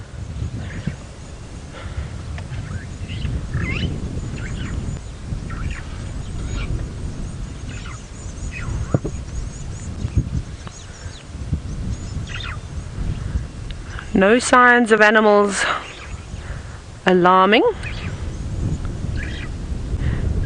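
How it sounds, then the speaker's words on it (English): Faint bird chirps scattered through an outdoor scene on an African safari drive near a marula tree, with someone speaking quietly throughout and a few brief louder tonal calls near the end. "Just some birds chirping."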